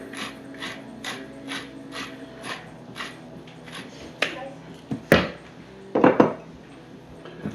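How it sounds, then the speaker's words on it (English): Fresh pepper and salt are ground with a hand mill over bacon-wrapped boneless skinless chicken thighs: a steady run of about a dozen short ratcheting, crunching grinds, close and moderately loud, ending in a few louder bursts. "put in some fresh ground pepper"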